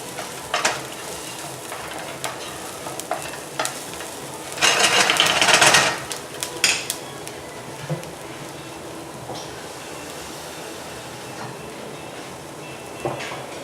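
Garlic fries in a pan for taco meat, a soft steady sizzle broken by scattered utensil clicks and a louder burst of crackling partway through.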